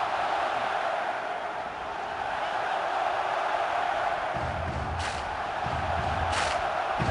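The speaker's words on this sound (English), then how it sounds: "Let's listen to him and listen to the crowd." A large stadium crowd at the 2012 Winter Classic hockey game roars in a broad, sustained wash of noise, with swelling bursts of cheering toward the end.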